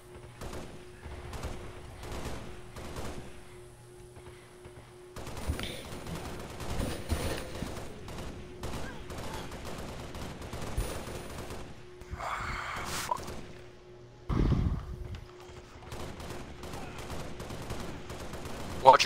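Gunfire in the video game Halo Reach, played in a team match between Sovereign and UNSC Leviathan: rapid bursts and volleys of shots crackle throughout, some loud and close, others more distant, with players' voices talking over the action.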